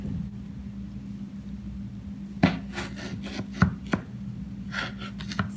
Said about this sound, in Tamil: இதே வந்து 4 பீஸா கட் பண்ணிக்கணும்.